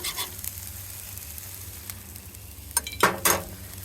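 Food sizzling steadily on a hot grill while a big spatula mixes it, the constant frying hiss broken near the end by a few louder scraping stirs, with no talk.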